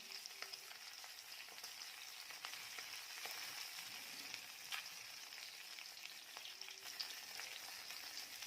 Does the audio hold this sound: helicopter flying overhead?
no